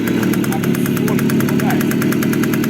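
A restored 1968 Riga 4 motorcycle engine idles with a steady, rapid knocking rhythm, close up, and a voice speaks briefly over it.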